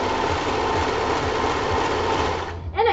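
A three-thread serger sewing machine stitching a skirt runs loud and close in a continuous fast whir, slowing and stopping near the end.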